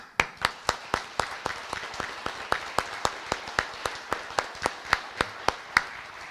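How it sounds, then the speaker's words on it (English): A round of applause for service members at a veterans resource fair at Brookfield Zoo, heard as steady, evenly spaced single claps, sharp and distinct, repeating about every third of a second throughout. "I want to give all of our service members a round of applause."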